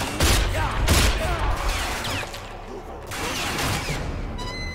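Rapid gunfire bursts from the shooter game RAGE, played on PC, loud and dense with broadband cracks, easing briefly near the middle before resuming; no speech is heard over it.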